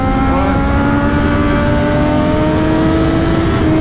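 Steady, loud engine drone from a 2016 Triumph Daytona 675 R motorcycle on the move, with wind noise around it and the pitch creeping gently upward.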